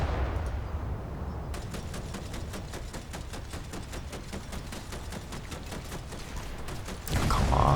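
Destroyer turret guns firing in War Thunder, a rapid steady string of sharp, even cracks over a dense low rumble of the ship, with a louder wash of noise at the end.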